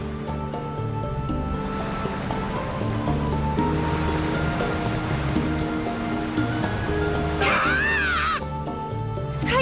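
Rough ocean currents churn in Ys X Nordics, a steady roar of crashing waves and surf rushing on and on, loud and close under game music, with a brief whooshing flourish near the end.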